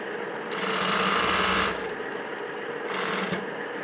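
Sewing machine stitching elastic into a trouser waistband, in two bursts: a longer run of rapid, close, whirring stitches, a pause, then a shorter run.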